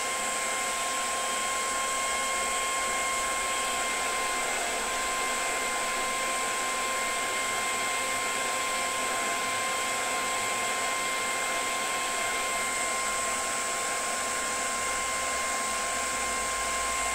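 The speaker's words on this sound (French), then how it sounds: "sèche-cheveux" A hair dryer blows steadily on a CD case to soften and lift its label, a constant close whirring hiss that runs without break or talk.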